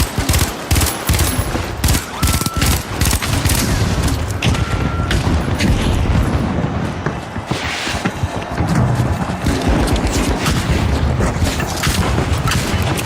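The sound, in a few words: frag grenade explosion in the video game The Finals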